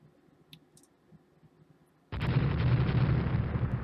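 A naval shell strikes a warship, the USS Delaware, in the Rule the Waves naval strategy game, landing as a sudden loud explosive burst after faint clicks, then a sustained roaring rumble that holds steady to the end.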